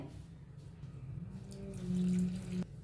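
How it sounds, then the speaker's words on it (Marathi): Milk being poured into a large bowl of ingredients, a faint close trickle that swells briefly into a fuller stream before stopping short, with no talk. "आता ह्याच्यात ओतूया आपण दूध"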